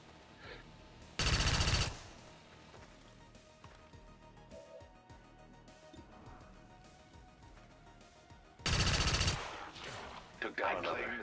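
Two loud bursts of gunfire from soldiers in the turn-based strategy game XCOM 2 with the Long War of the Chosen mod, each a dense blast under a second long, separated by quieter background clatter and ambience.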